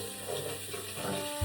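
A newly replaced bathroom faucet runs steadily, a continuous hiss and splash of water into a sink, close and moderately loud with no talking.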